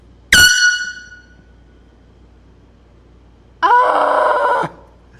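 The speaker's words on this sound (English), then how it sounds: "got a little air horn." A small air horn fitted inside a Javelin car's cabin gives a short sharp blast, then after a pause a longer, steady, brassy honk of about a second, loud and close in a quiet garage.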